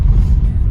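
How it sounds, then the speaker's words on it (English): A car rolls along a dirt road through a Florida state park, a steady low rumble of tires and engine, close and continuous for a brief moment. "my poor car on this dirt road"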